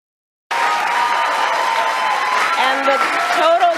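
A large crowd at an economic plan speech breaks into loud, dense applause and cheering that starts abruptly and holds steady, with a voice rising above it near the end.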